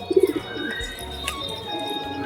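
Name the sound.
Deshi Giribaz pigeons cooing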